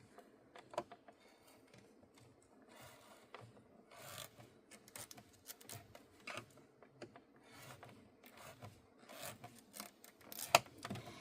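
Paper is scored for a book fold card with random lines an eighth of an inch apart, giving quiet, close scraping and rubbing strokes in an irregular rhythm with occasional sharper ticks.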